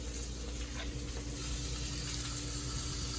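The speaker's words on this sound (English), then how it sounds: "As you can hear, they're sizzling nicely." Hot dogs, split and laid cut side down, sizzle in a pre-warmed skillet with a steady, close hiss of frying that holds at an even level for a few seconds and has no talk over it.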